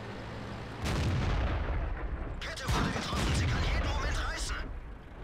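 Loud, booming tank cannon shots and explosions in the World of Tanks video game come in bursts, with heavy rumbling between them and voices talking over the action.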